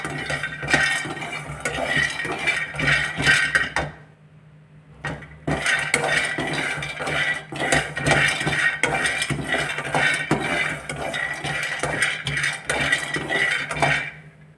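Almonds frying in a pan, heard as repeated clattering and scraping of a utensil against the metal pan, busy and close with a brief pause partway through.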